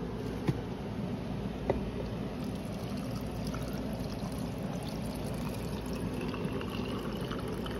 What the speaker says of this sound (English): So we're gonna pour that over our cucumbers